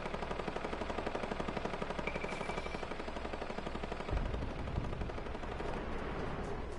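Sustained automatic gunfire rattles rapidly and continuously as a player shoots at a base in Fortnite, fairly faint but steady throughout, with a few heavier impacts midway.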